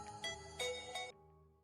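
A phone's electronic melodic ringtone plays a few bright pulsing notes indoors, close and clear, then cuts off abruptly, leaving quiet.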